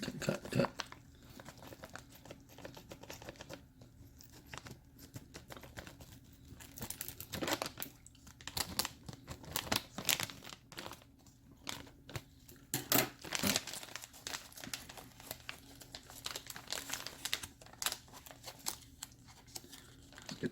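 A plastic beef jerky package is crinkled, crumpled and torn open up close, giving a stretch of irregular rustling and crackling with sharp tearing bursts at a quiet overall level.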